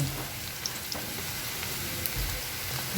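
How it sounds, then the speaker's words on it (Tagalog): Corned beef sautéing with onion and garlic in a pan, giving a steady, fairly quiet sizzle with a few light clicks, continuous and alone without talk. "gigisahin ko muna yung corned beef sa sibuyas at bawang"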